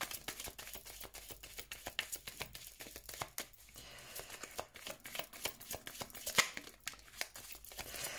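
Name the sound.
shuffling tarot cards for a reading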